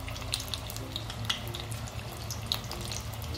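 Sweet corn bhaji deep-fry in hot oil over a low to medium gas flame, giving a steady bubbling hiss dotted with small crackles and pops.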